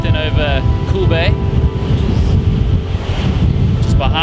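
Strong coastal wind buffets the microphone at Kogel Bay near Cape Town, a loud continuous rumble and roar with faint surf behind it and brief bits of voice now and then.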